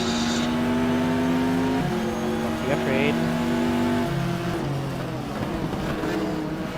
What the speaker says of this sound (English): Here comes the first of the GT cars.